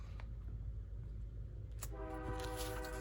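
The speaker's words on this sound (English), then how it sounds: "Oh, here comes the train." A train passing nearby with a deep rumble, then its horn blasting loud and sustained, layered over the steady rolling noise of the cars.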